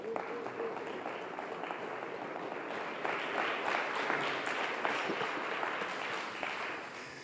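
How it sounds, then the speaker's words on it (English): Distant, fairly faint applause from an audience honoring Dr. Paul Ortiz at a speaker event, a dense steady patter of many hands that swells slightly midway and continues throughout. "ladies and gentlemen, please give him a round of applause."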